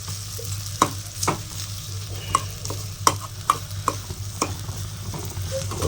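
Dried fish pieces fried with chilli in a pan, stirred and tossed with sharp scraping strokes at an uneven rhythm over a steady low sizzle, close and fairly loud.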